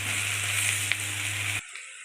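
A pan sizzles steadily and loudly with frying ingredients for tundri, a continuous hiss that cuts off abruptly near the end.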